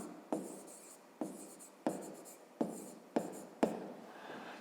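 Pen or pencil writing out a grade-5 math exercise by hand on paper, heard as six distinct stroke bursts at a steady rhythm, each a sharp tap trailing into scratchy rubbing, close and quiet with no talking.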